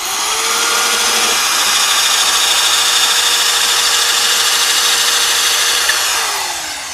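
A continuous high-pitched whine of a power drill running steadily for several seconds, drilling through extruded polystyrene insulation on a house wall, loud and close, easing off at the end.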